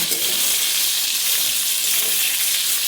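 Small chunu fish frying in a kadai on medium gas heat, a loud, close, continuous hissing sizzle of oil that holds steady throughout with no voices.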